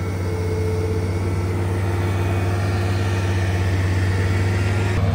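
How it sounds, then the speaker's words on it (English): CONETEKS forest machine with its rear power pack spinning a CONETEKS 2.5SF attachment at around 1800 RPM, giving a steady, loud, low engine drone with a constant hum that holds evenly throughout, with no talk. "And on the back we have a power pack that's spinning only the attachment."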